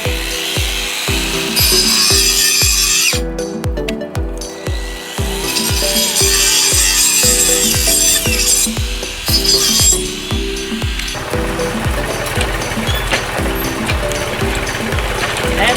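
Hand saw cutting through lemon tree wood, a steady rhythmic rasp of regular back-and-forth strokes, close and loud, with brief pauses midway and a faster, lighter stroke pattern toward the end.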